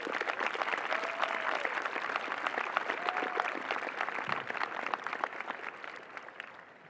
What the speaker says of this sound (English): Please join me in a round of applause.